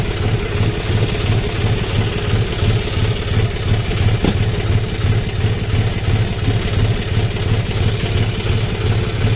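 A John Deere farm tractor engine idles at a steady low throb, loud and close, with a constant mechanical clatter and no break or change in pace.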